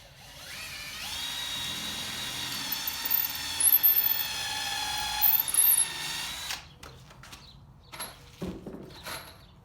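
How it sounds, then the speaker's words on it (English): A power drill bores pilot holes at an angle into a wooden bucket planter, giving one steady high whine of about six seconds, followed by quieter clicks and handling sounds. "I want to drill pilot holes"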